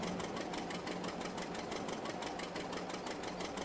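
A Hercules tractor engine in a farming video game runs steadily at idle, a continuous mid-pitched mechanical drone with a fast rhythmic chatter, left running alone at an even, moderate level.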